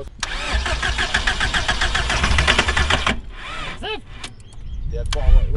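A car engine fed WD-40 as fuel runs loudly with a steady mechanical drone for about three seconds, then cuts out, followed by a sputtering restart attempt and a brief revving burst near the end.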